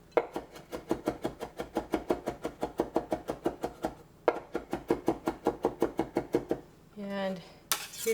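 A knife minces ginger on a cutting board in quick, steady chopping taps, a run of rapid strikes, a short pause, another run, then a brief scrape.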